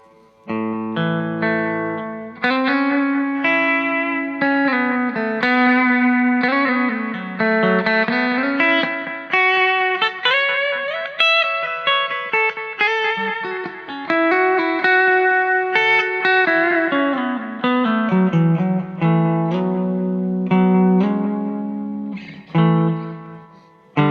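Electric guitar run through a cheap delay pedal with the feedback set high, playing sustained melodic notes that smear into long, overlapping repeats, loud and continuous.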